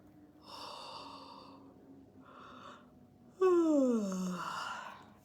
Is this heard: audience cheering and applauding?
no